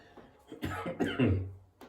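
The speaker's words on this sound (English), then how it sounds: "I've had a cough for the last week and it's really getting annoying" A single person coughs a few times in a short, throaty cluster, close and moderately loud, with quiet on either side.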